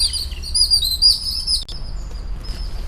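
Garden birds chirp loudly and close, with rapid high tweets through the first half that thin out to a few fainter calls, and no voices.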